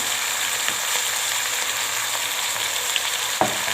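Salted potatoes fry in a pan, a steady close sizzle running throughout with a few soft clinks and scrapes as they are stirred.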